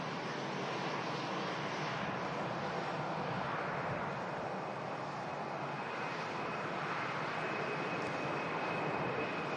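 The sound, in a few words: Helvetic Embraer E190 jet on departure roll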